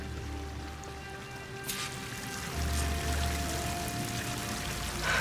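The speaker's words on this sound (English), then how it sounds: "That waterfall must be coming from somewhere." A waterfall in Horizon Forbidden West pours steadily in the background, a soft continuous rush of falling water with a brief splash and low rumble swelling partway through.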